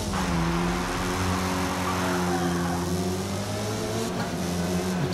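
Race car lapping the Nordschleife at the Nürburgring in a racing video game, played with a Thrustmaster T300 RS GT wheel and TH8S shifter: a steady, loud engine drone with layered harmonics that rise and fall through gear changes, continuous and unaccompanied by voices.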